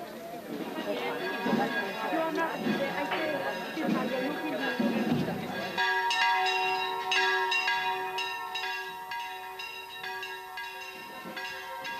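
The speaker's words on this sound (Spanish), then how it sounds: "Las campanas voltean al paso de la procesión por la iglesia de las Hermanas Justinianas" Church bells peal loudly and continuously, swinging in a steady clanging rhythm as a religious procession passes in Agullent, with a crowd murmuring underneath early on before the bells dominate.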